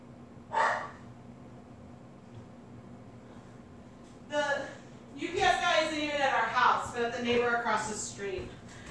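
A dog barks at a stranger arriving at a house in Massachusetts, with a UPS truck outside: a short burst early, then a louder, sustained run of barking and agitated yelps near the microphone.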